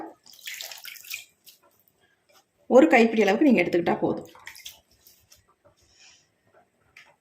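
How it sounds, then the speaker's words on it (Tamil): Fresh hibiscus leaves, stems removed, are rinsed in water for a hair remedy, giving a short burst of splashing and sloshing between stretches of someone talking. "அதையும் நல்லா இந்த மாதிரி வாஷ் பண்ணிவிட்டு நம்ம மிக்ஸி ஜார்லேயே ஆட் பண்ணிக்கலாம்"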